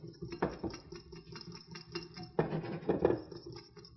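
Cake batter with flour and ginger being stirred in a bowl: intermittent scraping and light clinks of a utensil against the bowl, close up, with short pauses.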